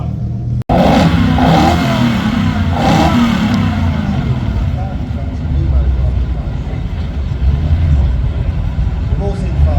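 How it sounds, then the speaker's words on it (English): A Lamborghini's engine roars steadily during a car parade at Salon Privé London 2023 at the Royal Hospital Chelsea, loud and close, with a brief dropout near the start and the rumble sustained throughout. "Next up, the Lamborghini."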